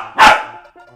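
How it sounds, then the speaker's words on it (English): A single sharp bark from a household dog, loud and close, followed by a softer short yip, with no talking. "My dog is being loud, I'm sorry."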